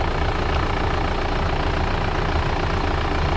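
A 4x4 overland vehicle's engine runs steadily at idle, a loud, continuous low rumble with no talk over it.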